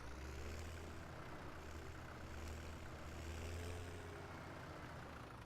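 A tractor engine in a farming video game on a Canadian wheat-planting map drones at steady idle-like speed, a low continuous rumble with faint mechanical whine held evenly throughout, no speech.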